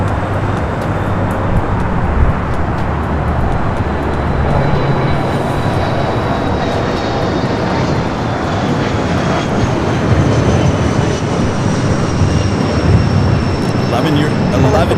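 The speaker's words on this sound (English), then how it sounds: "we do have the Lufthansa A380 Super coming in from Munich" A Lufthansa Airbus A380 inbound from Munich lands on runway 25 left at LAX, its broad engine roar loud and steady throughout, with a faint rising whine and voices over it.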